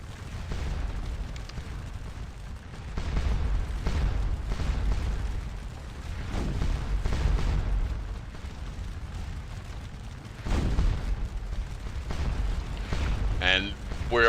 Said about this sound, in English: And there we go with the cannons. This is exactly what I wanted. Hit them with the canister fire.